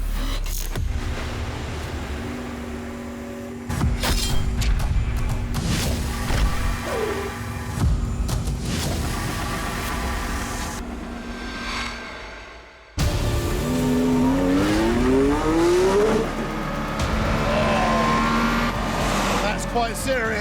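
Mercedes-AMG One hypercar accelerating hard in its Strat 2 maximum-performance mode, engine note climbing through rapid upshifts, loud and close, with a brief drop before a fresh surge and someone talking over it.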